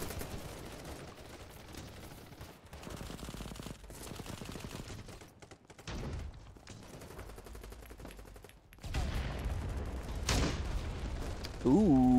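Rapid bursts of FAMAS rifle fire in BattleBit Remastered, rattling fairly quietly and steadily through a cluttered game mix, with a voice talking over parts of it.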